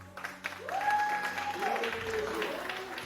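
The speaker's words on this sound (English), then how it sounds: "is like literally half the crowd cheering for SpeCial?" A StarCraft esports crowd at a GSL 2019 match cheers and applauds for the player SpeCial, a moderate wash of clapping and shouts with a caster's voice talking over it.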